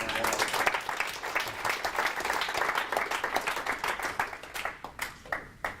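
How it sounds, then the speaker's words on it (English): Applause from attendees at a technical deep-dive session, brisk clapping from a modest group that grows more scattered and distinct as individual claps trail off toward the end. "I think a big round of applause for"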